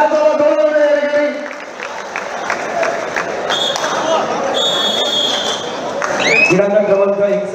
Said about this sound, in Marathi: जोरदार टाळ्या अमित कुमारसाठी प्रो कबड्डीचा खेळाडू टाळ्यांचा वाजवून